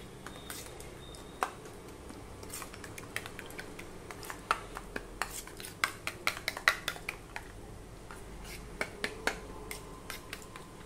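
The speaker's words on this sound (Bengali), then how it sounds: "দিয়ে আমি এভাবে ফেটিয়ে নিচ্ছি।" A fork taps against a bowl while an egg is beaten with semolina, in quiet irregular clicks and clinks over a soft background, with no talk.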